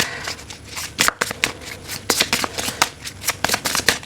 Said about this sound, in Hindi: मैं क्यों ये शफल कर रही हूँ।